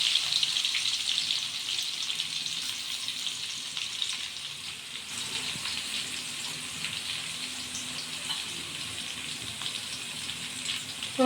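About ten cloves of crushed garlic frying in hot oil for a small-onion tamarind kuzhambu, giving a steady, even hiss and sizzle that runs continuously at moderate level without talk.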